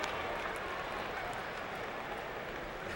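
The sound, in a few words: crowd buzz at baseball game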